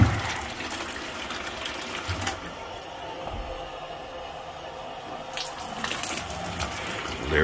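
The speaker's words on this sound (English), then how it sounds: "The next thing I wanna see if the water's gonna come out the shower head" Water gushes out of a shower head over a bathtub in a steady, broadband rush that runs the whole time, with a few louder bursts and knocks near the start and end.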